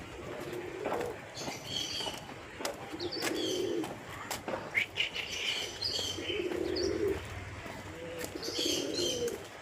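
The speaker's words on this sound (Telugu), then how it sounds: "పక్షులు." Birds call and coo around a lake picnic spot, pigeon-like coos and scattered chirps repeating across the scene at moderate distance, with no talk.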